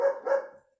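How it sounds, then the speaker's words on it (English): A single dog bark, close and fairly loud, one sharp yelp-like call that swells twice before trailing off quickly, with no other sound around it. "That's my dog."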